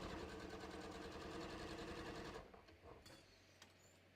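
A sewing machine stitches fabric in a fast, even mechanical whir for a couple of seconds, then stops, leaving faint handling clicks and rustles nearby.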